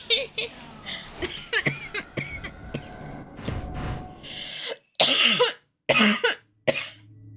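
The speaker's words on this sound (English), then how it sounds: "I just got a cough." In the game Fatal Frame: Maiden of Black Water, several harsh coughs burst out near the end, loud and close, following a stretch of strained vocal sounds and breathy noises.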